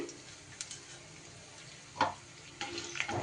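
Whole cumin, coriander, black peppercorns and whole garam masala fry in hot oil with a faint, steady sizzle and a few light ticks and crackles, heard close and quiet with no voices.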